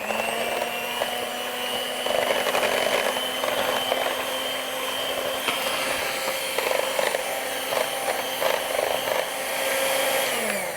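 An electric hand mixer or blender whirs steadily as yogurt is whipped with water for dahi bhalla, a continuous motor whine with slight fluctuations in load, close and alone without any talk.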